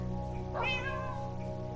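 A single short meow from a cat in the video game Minecraft, moderately clear over a steady background hum, with no talking.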